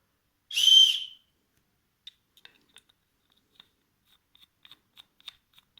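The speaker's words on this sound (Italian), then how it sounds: "Questo è il fischietto." A single short, shrill whistle blast, followed by quiet scattered clicks and small handling taps.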